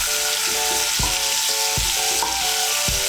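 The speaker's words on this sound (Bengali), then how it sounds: "আঁচটাকে বাড়িয়ে আমি ফুলকপিটাকেও ভেজে নেব" Cauliflower pieces fry in hot oil in a pan over raised heat, a loud, steady sizzle throughout with a few soft knocks from the pan.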